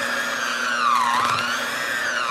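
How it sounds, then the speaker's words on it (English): An old hand-cranked egg beater mixing dough, giving a steady mechanical whir with a wavering pitch as the crank speeds and slows, loud and close with no talking. "So I'm just going to sit here and struggle with my ancient egg beater."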